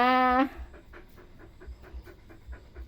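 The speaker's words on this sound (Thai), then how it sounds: "หายใจแรง หายใจแรง" A dog pants heavily in quick, rhythmic breaths close by, after a brief tonal whine at the start.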